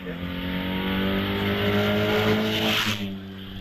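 An MGB with an 1840cc engine racing up the Prescott hill climb, its engine droning loudly and steadily under throttle with a slight pitch rise near the end, a commentator talking over it.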